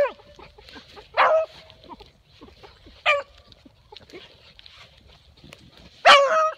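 A young puppy gives a few short, sharp yelps and whimpers spaced a couple of seconds apart, close by, over quiet background rustling.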